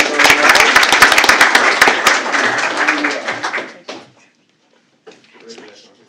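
Audience applause fills a school board of trustees meeting, a dense wash of many hands clapping loudly for about four seconds before tapering off, followed by near silence and a few faint scattered sounds.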